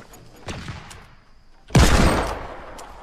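Gunfire in the Fortnite video game: a lighter shot or two, then a loud, close blast that decays over about a second against a quiet background.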